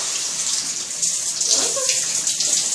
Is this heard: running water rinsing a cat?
yes